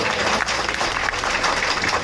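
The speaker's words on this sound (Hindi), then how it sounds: "एक बार जोरदार तालियां बजाएं जो जो इस शोभा यात्रा में आए" A crowd claps loudly and continuously at an outdoor religious procession celebrating the birth anniversary of Lord Devnarayan's horse, a dense steady wash of applause.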